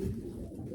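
Low, throaty cooing from a young medium-sized Staff Van Riet racing pigeon, a short close murmur that holds steady throughout.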